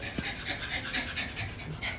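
A dog pants rapidly and steadily up close, quick rhythmic breaths continuing throughout with no other sounds.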